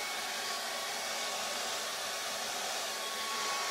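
A hair dryer blows on damp charcoal and acrylic artwork, a steady close airy whoosh with a faint whine that holds level for a few seconds, with no talking.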